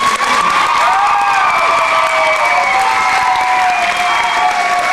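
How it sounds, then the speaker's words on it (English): A large high school senior party audience at a hypnotist show claps steadily throughout, a dense, continuous roar of applause mixed with whistles and cheering. "so let them hear that applause"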